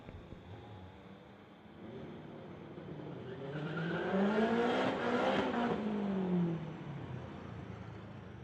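BMW and Honda street cars drag racing, engines revving up as they pass, rising to a loud rushing peak mid-clip and then fading back into distant crowd ambience.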